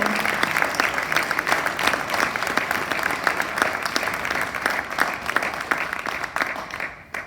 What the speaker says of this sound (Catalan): Un fort aplaudiment per tots els cantants i les cantantes de l'Escola Francesc Macià.